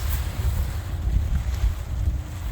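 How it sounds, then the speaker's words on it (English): A wind gust rushes across the microphone outdoors while a paragliding wing is kited on the ground, a steady low, buffeting roar that fills the whole moment with no talking. "So I'll wait for like a gust and we'll see."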